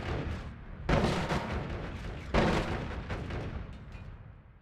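Two heavy booms from the video game Noita go off in sequence, each a sudden loud blast trailing into a rumbling decay, with no talk.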